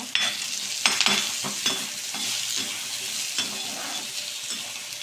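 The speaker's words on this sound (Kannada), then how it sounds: "ಸ್ವಲ್ಪ ಫ್ರೈ ಆದರೆ ಸಾಕು ಹಸಿ ವಾಸನೆ ಹೋಗೋಷ್ಟು ಫ್ರೈ ಆದರೆ ಸಾಕು" Onions fry for a chutney with a constant bright sizzle and intermittent stirring scrapes and clinks of a spoon in the pan, close and steady throughout, no voices.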